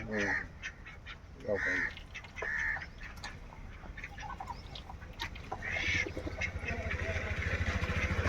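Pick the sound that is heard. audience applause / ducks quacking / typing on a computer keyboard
ducks quacking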